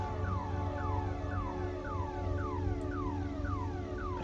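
Cockpit warning alarm in Microsoft Flight Simulator, sounding as a steady, loud electronic tone that sweeps downward over and over at a quick, even rhythm, alone with no talking.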